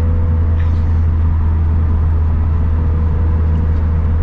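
A turbocharged Scion FR-S fitted with an ACT clutch and lightweight flywheel drives along, heard from inside the cabin as a loud, steady low engine drone with road rumble and no voices.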